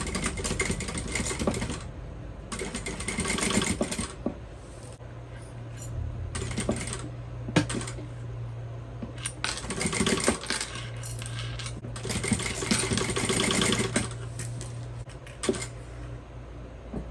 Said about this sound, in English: And we're going to sew the folded edge.